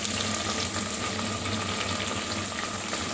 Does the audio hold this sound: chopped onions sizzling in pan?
yes